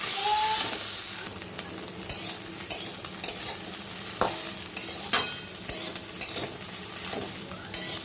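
Masala with Gobindobhog rice and prawns is stir-fried in a pan, a steady close sizzle punctuated by irregular scraping and knocking spatula strokes.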